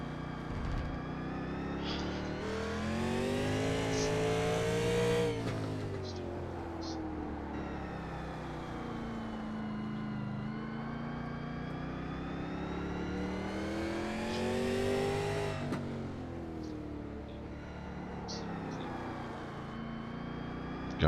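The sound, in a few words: race car engines revving during a race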